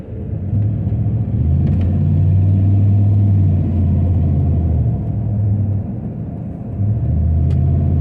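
A car's engine rumbles steadily from inside the cabin while driving in San Antonio traffic, a low constant drone with slight shifts in pitch and no talking.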